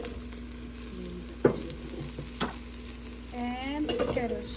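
Carrots sauté in beef drippings left in the pan for Japanese-style curry, a soft sizzle with a few sharp utensil scrapes and knocks; a faint voice-like or whistling tone drifts in near the end.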